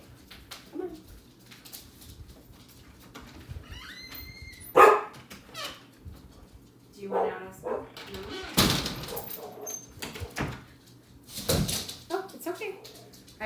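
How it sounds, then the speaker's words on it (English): A pet dog named Kenny barks outdoors in scattered bursts at mid-distance. A door bangs once, and a person talks now and then between the barks. "my dog Kenny ran out to bark at whoever's out there"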